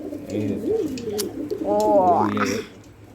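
A blue pigeon coos at night close by with repeated throaty, rolling coos that swell toward the end, while a person talks softly underneath.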